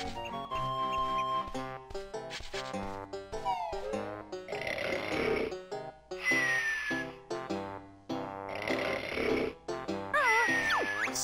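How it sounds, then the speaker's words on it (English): Banjo snores in the video game Banjo-Kazooie, a cartoonish rhythmic snore that repeats in several long breaths, set against bouncy game music with chimes and jingles. "Snoring, bro."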